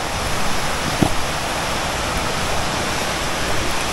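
Continuous hissing rush of a small mountain stream flowing nearby, steady and loud, with a brief faint knock partway through.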